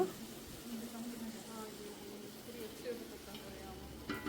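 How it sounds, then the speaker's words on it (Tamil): Coriander leaves fry in hot oil in a pot for chicken biryani made with seeraga samba rice, a soft steady sizzle with light stirring, faint and close under a quiet background. "இதுவும் நல்லா இந்த எண்ணெயிலே ஃப்ரை ஆகட்டும்."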